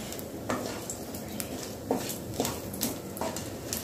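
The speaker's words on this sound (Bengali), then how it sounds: "খুব ফাটছে, চোখে ছিটে গেল, বেশ সুন্দর ভাজা ভাজা হয়েছে।" Garam masala crackles in hot oil in a pan while pulao is being made: a faint sizzle with scattered small pops and a few light clinks of a utensil, close by and without talk.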